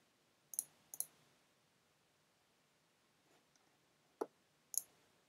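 A computer mouse on a Mac clicks sharply about five times: a quick pair early on, then a pause, then two more spaced clicks, faint and close in a quiet room with no speech.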